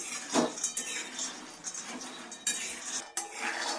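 A spoon stirs and scrapes food roasting in a pan over a low flame, giving irregular close metallic clinks and scrapes with quiet gaps between them and no voices.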